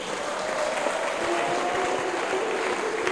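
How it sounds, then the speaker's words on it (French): An audience at a couples retreat applauding, dense sustained clapping filling the room throughout, with a faint voice underneath. "Acclamez maintenant."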